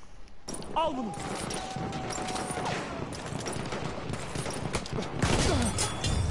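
Rapid gunfire and explosive bursts from the World War I shooter Battlefield 1 crackle through a busy battle mix, with a louder flurry near the end, while a player talks and exclaims over the action.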